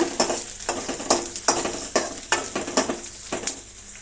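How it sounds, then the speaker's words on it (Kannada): Chopped onion and curry leaves fry in a pan with mustard seeds, sizzling steadily while a spoon stirs in rhythmic scraping strokes roughly every half second, close and fairly loud. "ಈಗ ಒಂದು ಈರುಳ್ಳಿ ಸ್ವಲ್ಪ ಕರಿಬೇವು ಇದನ್ನು ಚೆನ್ನಾಗಿ ಫ್ರೈ ಮಾಡೋಣ"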